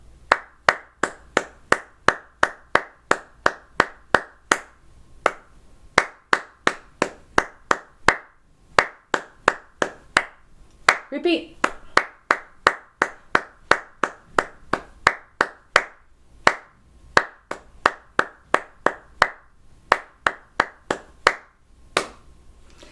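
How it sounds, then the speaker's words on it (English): Steady rhythmic hand clapping, close and crisp, repeating in even patterns with brief pauses; a voice briefly speaks once midway. "I'm going to do the clapping part."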